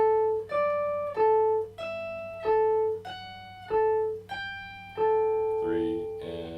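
Electric guitar picking an intro line, clean single notes ringing out in a steady repeating pattern, each plucked clearly and close, with a brief voice near the end.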